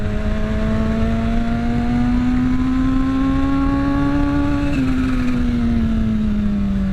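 A Kawasaki H2 motorcycle engine revs with a strong, steady drone whose pitch climbs slowly under light throttle, eases briefly, then drops toward the end. It is loud, close and continuous, with no voices.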